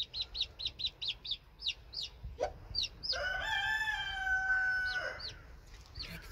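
Chicks give a rapid run of high, evenly spaced peeps, then a grown chicken lets out a long, drawn-out call over them; the birds are close and clear against a quiet backyard coop background.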